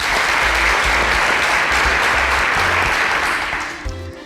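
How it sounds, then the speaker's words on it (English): An audience gives a full round of applause at a televised show, loud and sustained clapping that tapers off toward the end. "All right, a round of applause for him, please."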